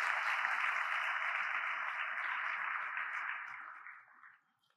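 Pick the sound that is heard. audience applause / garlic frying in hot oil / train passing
audience applause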